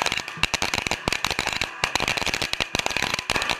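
Firecrackers go off in a rapid string of sharp cracks and pops for a new-year celebration near a temple, dense and loud, with irregular bursts running throughout.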